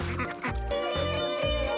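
Egg-laying ducks being fed, a flock quacking loudly and close in rapid overlapping calls.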